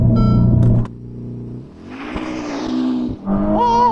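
Hard launch from a standing start in a drag race between a Tesla Model X Plaid, Ferrari SF90 and Lamborghini Aventador SVJ: a loud engine roar rises and swells into a surging acceleration, then a sharp high-revving whine as another car pulls away.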